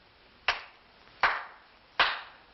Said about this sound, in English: I clap my hands 3 times,